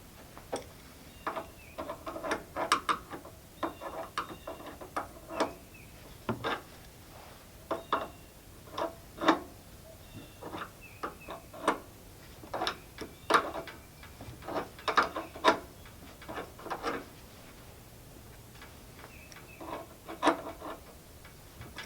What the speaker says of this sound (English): We'll crank up the tension because that's too loose.